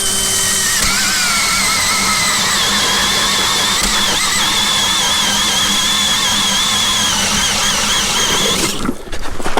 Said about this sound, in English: I'm going to drill a new hole right beside my last test hole